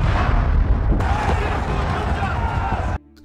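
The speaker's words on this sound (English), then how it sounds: "Despite the risks, Nelson decides to call in the airstrikes." Airstrike explosions in an Afghanistan war setting after 9/11: a loud, continuous roar of blasts and rumbling fire with a sharp new impact near one second, dense throughout and cutting off abruptly near the end.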